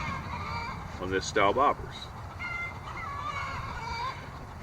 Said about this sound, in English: now pardon the chickens in the background